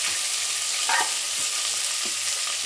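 Onions sizzle and fry in hot oil for biryani, a dense, steady crackle throughout, with a few soft scraping stirs of a utensil in the pan close by.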